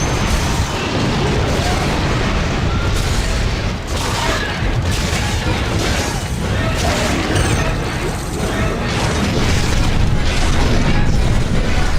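Shuttle thrusters test firing aboard a ship in Dead Space: Extraction, a steady loud roar and rumble with mechanical clanks and booms running throughout.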